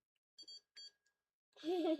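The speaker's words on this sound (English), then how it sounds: "That's beeps" Short electronic beeps from a child's toy or device, two quick clusters close by, followed by a voice.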